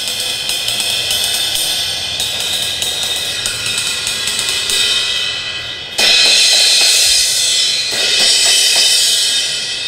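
Zildjian 18-inch cymbals ridden and crashed, a dense bright wash of shimmering metal that swells into a louder explosive crash midway and keeps ringing, close and loud.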